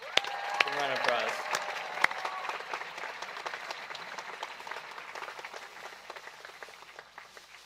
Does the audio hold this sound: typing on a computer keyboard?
no